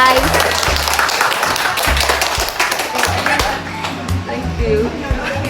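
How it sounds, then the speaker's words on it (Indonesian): Students clapping together in a classroom during an Indonesian Islamic lesson on funeral prayer, a dense, steady patter of many hands that trails off toward the end. "Beri tepuk tangan guys."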